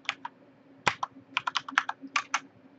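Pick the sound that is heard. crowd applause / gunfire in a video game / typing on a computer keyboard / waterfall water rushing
typing on a computer keyboard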